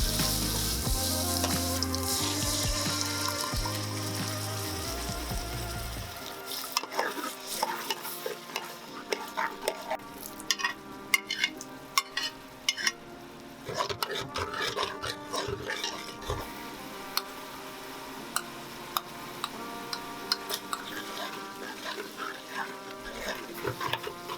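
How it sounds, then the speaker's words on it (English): Ginger garlic paste sizzles with onions in a pan for a prawn biryani, a steady frying hiss broken by repeated scrapes and clatters of stirring, close and loud with no talk. "Now we're gonna add the ginger garlic paste to the onion, and you stir it for 1 minute before you add anything else."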